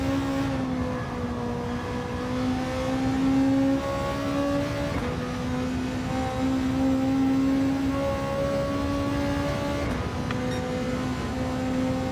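A race car engine in Gran Turismo 7 holds a steady, loud droning tone with strong harmonics, pitch shifting only slightly as it runs continuously.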